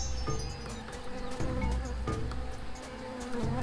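Bee buzzing in the adventure game Tales of Monkey Island, a steady close drone with faint jungle ambience and soft thuds behind it, continuous for a few seconds with no talk.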